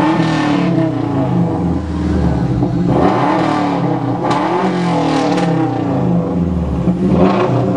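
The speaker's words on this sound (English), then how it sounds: "definitely got a raspier sound than the average car" A Subaru Legacy engine runs close by with a raspy, throaty exhaust note, revving up and down in uneven surges.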